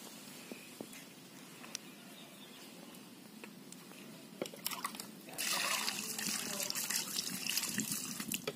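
Water is poured over Gayo Robusta coffee held in a wire sieve, starting as scattered drips and taps and then turning into a steady, close splashing gush over the last few seconds.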